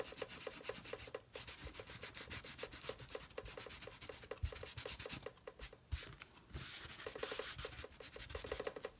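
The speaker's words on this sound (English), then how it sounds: "I'm rubbing pretty hard just to get it down in that grain" Steady close rubbing as a baby wipe works paint hard into wood grain, a soft, dense scrubbing with quick repeated back-and-forth strokes and brief pauses, no speech.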